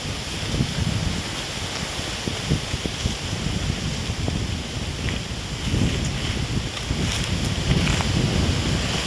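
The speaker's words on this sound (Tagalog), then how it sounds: "Ang lakas ng hangin." Strong wind roars and gusts outdoors, buffeting the microphone with a constant low rumble that swells louder toward the end.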